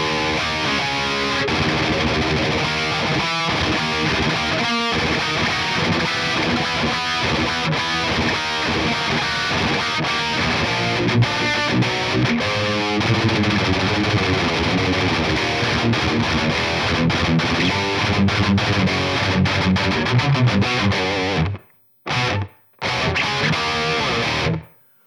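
Heavily distorted electric guitar riffing through the Silenoz main rhythm KT88 amp plugin, loud and continuous chugging with brief cutoffs near the end.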